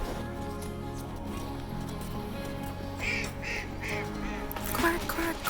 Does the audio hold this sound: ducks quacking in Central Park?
yes